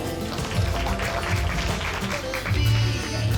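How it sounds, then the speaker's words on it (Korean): An audience at a press event for the film cast claps steadily to welcome the director, a dense, continuous patter over a low tonal background with no talking. "최성훈 감독님을 박수로 모시겠습니다"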